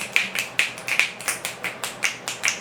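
Finger snaps stand in for quiet library-style clapping, a run of about a dozen crisp, fairly soft snaps in an uneven rhythm, close by with no talking.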